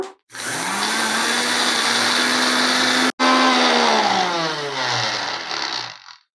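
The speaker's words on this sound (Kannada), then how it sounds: "ಈಗ ಡ್ರೈ ಫ್ರೈ ಮಾಡಿರೋವಂಥ ರಾಗಿನ ನಾನು ಗ್ರೈಂಡರಲ್ಲಿ ಹಾಕ್ಕೊಂಡಿದ್ದೀನಿ" An electric grinder whirs loudly and steadily as it turns dry-roasted ragi (finger millet) into powder, stopping for a split second midway before starting up again at full speed.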